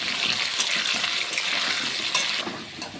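Potatoes fry in hot oil in a home kitchen, giving a steady, close sizzle with light stirring and scraping throughout that eases slightly near the end.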